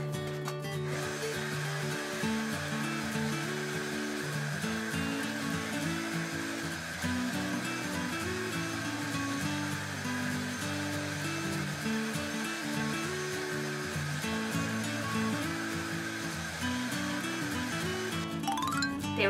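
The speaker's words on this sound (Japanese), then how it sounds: "今からヘアドライヤーで髪の毛をちゃんと乾かしたいと思います。" A hair dryer blows continuously at close range to dry hair, a steady loud whooshing drone with a motor hum that starts and stops abruptly at each end.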